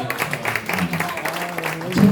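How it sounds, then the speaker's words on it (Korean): An audience at an author talk applauds the poet's wife, with rapid, moderately loud clapping from a small crowd that carries through to the end, under faint background voices. "고생한 사모님의 박수."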